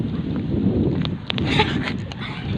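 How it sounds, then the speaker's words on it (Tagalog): Strong wind on a farm rumbles and buffets the microphone steadily throughout, a low roaring gust with no other clear sounds. "Grabe ka hangin. Pati buhok ko nalipad."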